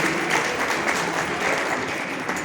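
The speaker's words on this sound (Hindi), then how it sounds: "आपकी जोरदार तालियां बजती रहनी चाहिए" Loud, steady applause from an audience at a girls' school function, the Sapt Shakti Sangam programme at Saraswati Balika Vidya Mandir in Shamli, India, continuous and dense throughout with no voices standing out.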